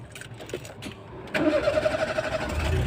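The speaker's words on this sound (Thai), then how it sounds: "ติดเครื่องให้ดูนะครับ" A 1994 Citroen AX running on gas and petrol cranks and catches after a second of quiet shuffling, settling into a steady, close idle with a rhythmic throb.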